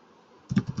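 A handful of quick keystrokes on a computer keyboard while typing code, close and crisp, after a near-silent pause.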